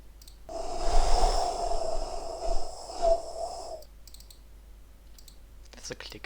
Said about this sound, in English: That's a click. I don't want that click.